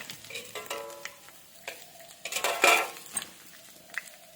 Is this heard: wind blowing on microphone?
no